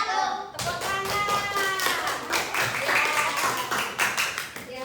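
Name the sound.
children clapping in a classroom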